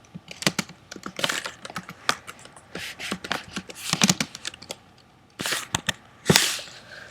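Rapid typing of code on a computer keyboard, dense bursts of loud, close keystrokes with brief pauses and a few sharper, heavier key strikes.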